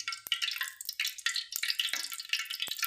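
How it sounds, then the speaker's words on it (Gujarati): Hot oil crackles for tempering dal, with close, bright sputtering bursts that rise and fall in quick waves across the short stretch, with no speech. "મારા પપ્પા દાળ વઘારાની તૈયારી કરે છે।"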